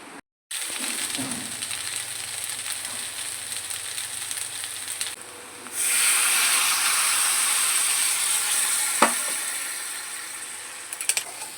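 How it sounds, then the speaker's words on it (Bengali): Luchi flatbread frying in hot oil, a steady loud sizzle that runs through the whole stretch, briefly cut off near the start, swelling stronger midway, with a few small clicks and pops near the end. "এখন লুচিটা ভাজি"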